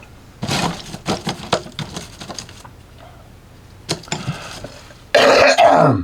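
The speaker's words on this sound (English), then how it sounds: "Got a little bit of a cough." A series of short throat-clearing bursts and coughs, fairly close, separated by brief pauses, ending in a louder, harsher cough.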